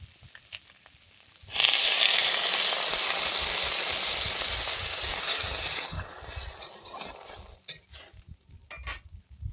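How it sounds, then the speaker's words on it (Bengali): Water hits a hot pan of pumpkin and potato that was being fried for a fish-head pumpkin curry, bursting into a loud, sustained sizzle that slowly fades, with a few utensil clinks toward the end. "এখানে কুমড়ো আলুটা আমি ভালোভাবে কষিয়ে নিয়েছি এর মধ্যে আমি দিয়ে দিচ্ছি এবারে জল"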